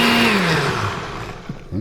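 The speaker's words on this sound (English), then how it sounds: "And now let's give this a blend." A blender whirring through almond butter chia seed pudding, a steady motor drone with a pitch that sags as it loads up, then brief bumps near the end.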